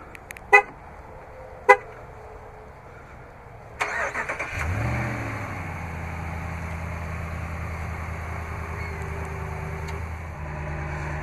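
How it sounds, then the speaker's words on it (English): A 2015 RAM 1500 Laramie Limited crew cab pickup chirps twice as the remote start is triggered, then the engine cranks and catches, settling into a steady idle hum. "Just double press the remote start button on the key fob."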